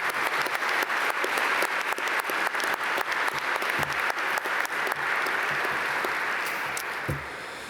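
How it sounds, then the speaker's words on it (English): A large audience at a Duke Fuqua Master of Management Studies graduation ceremony gives a sustained round of applause for volunteers, dense steady clapping that tapers slightly near the end. "if you all could give them a round of applause"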